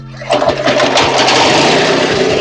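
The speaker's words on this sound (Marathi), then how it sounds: "हा रिकॉइलनं आपण मशीन चालू करून घेऊया।" A petrol-powered chaff cutter machine is pulled into life with a recoil starter and its small engine catches quickly, then runs as a loud, steady, close buzzing drone.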